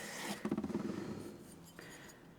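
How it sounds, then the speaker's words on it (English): A hand plane blade drawn across a leather strop gives a quiet, close rubbing rasp with a brief fluttering run of soft strokes, then fades to a faint hiss. "I'm pulling that across the surface and letting the strop do the work."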